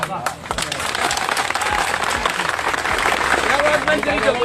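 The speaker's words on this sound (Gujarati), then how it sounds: "અને આજ તમે આજ તાળી પાડો છો ને" A seated crowd at a Koli and Thakor community gathering breaks into sustained clapping, loud and dense throughout, with a voice speaking over it.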